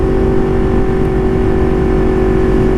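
Yamaha FZ/MT series motorcycle engine held at a steady high idle, a loud, constant, close drone with a firm low-pitched rumble and no change in pitch.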